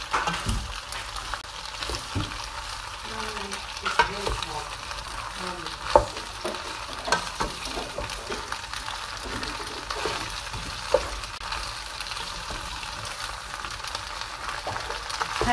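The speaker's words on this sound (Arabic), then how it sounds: "هلا احنا بوتت سمنة شوية زيت ومنحرك المعكرونات" Pasta stirred in a pan of ghee and a little oil, a steady frying sizzle throughout with occasional scraping clinks of the spoon, fairly close and moderately loud, no talking.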